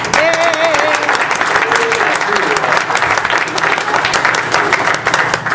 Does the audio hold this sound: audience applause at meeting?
yes